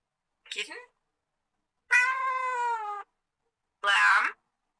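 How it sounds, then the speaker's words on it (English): A kitten meows three times, separated by pauses: a short first call, then a longer sustained meow and a final mid-length one, each close and clear. "Kitten?"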